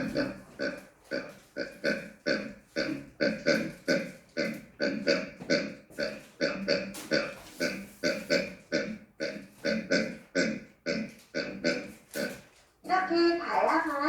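Rapid rhythmic pig grunts and oinks repeat in a long steady series, close and fairly loud, ending with a brief squeal.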